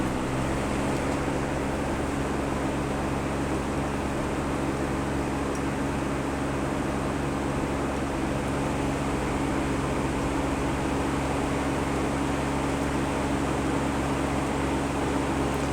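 A Crompton Optimus 100-litre desert air cooler runs at maximum speed, giving a steady, loud, even rush of fan and airflow noise with a low motor hum, unbroken throughout and close up.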